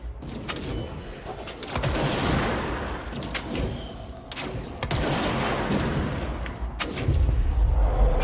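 Rapid bursts of gunfire from the video game Control, several clusters of shots spread across the stretch, loud and close, with game ambience and impacts between them and no talk.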